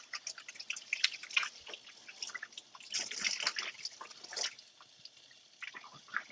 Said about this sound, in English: So I'm washing my hands because, of course, raw meat and all that.